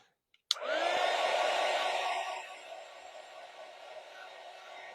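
A hair dryer switches on with a click and blows steadily to dry paint on a wooden craft tray, a loud even whoosh that drops to a lower setting partway through and keeps running.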